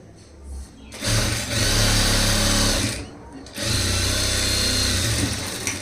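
A sewing machine stitches a straight seam on a saree blouse, running in two steady motor bursts of about two seconds each with a brief pause between, loud and close.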